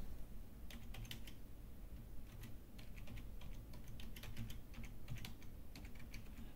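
Someone types an email address on a computer keyboard to log in. Quick, light key clicks arrive in short irregular bursts, close and fairly quiet, with no talking.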